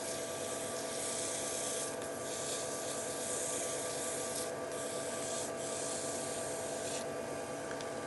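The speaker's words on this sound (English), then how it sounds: "Now I'm going to take the speed back up on my lathe using an 800 grit sandpaper. I'm going to sand that CA glue out." Steady close rubbing of 800 grit sandpaper against a CA glue pen finish spinning on a lathe, a continuous even hiss with small surges and no talk.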